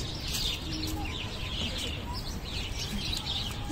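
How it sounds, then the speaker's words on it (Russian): Small tits chirp in a lively flock outdoors, with many quick high tweets overlapping in irregular bursts against a steady background hum, fairly near and busy throughout. "Очень много синичек."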